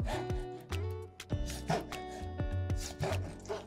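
A knife chops squid into rings sharply on a board in an even rhythm, about eight crisp cuts close by with no talking.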